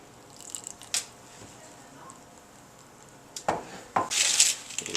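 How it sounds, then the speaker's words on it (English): A utensil stirs crushed cookie crumbs into melted butter in a bowl for a chocolate crumb cheesecake crust, giving scattered scrapes and clinks against the bowl, quiet at first, then a busier cluster of clacks and gritty scraping toward the end. "You stir it until all the cookie crumbs get a little bit of butter on it."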